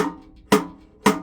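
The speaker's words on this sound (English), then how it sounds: "a natural cross stick rim shot, whatever you're going to call it. So wood on wood." Three crisp wood-on-wood cross-stick rim shots struck on a Gruv-X X-Click percussion accessory, each a sharp, close, dry click with a short decay, played alone at an even pace.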